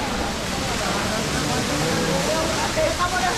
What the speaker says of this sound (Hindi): ये तो अपना दूसरा झरना हो गया है।